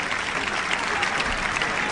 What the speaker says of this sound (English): What's wonderful here at Roland Garros right now are to see the people stand and applaud both players.